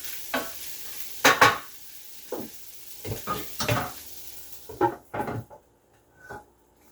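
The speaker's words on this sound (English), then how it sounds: "Let's give these veggies another stir real quick." Vegetables sizzle in a frying pan while a utensil stirs and scrapes them in several close, uneven bursts, the steady frying hiss running underneath throughout.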